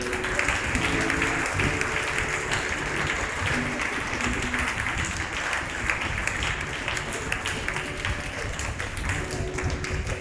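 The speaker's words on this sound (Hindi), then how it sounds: "जब वो स्टेज पे आएंगे तो हम जोरदार ताली बजा के उनका स्वागत करेंगे।" A congregation gives loud, sustained applause to welcome elders onto the stage at an inaugural Sunday worship in a new church tabernacle, dense clapping continuing unbroken for ten seconds with faint voices mixed in.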